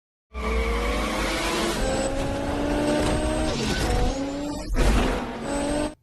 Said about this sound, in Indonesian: Adegan diperlihatkan dua buah mobil yang sedang ingin balapan.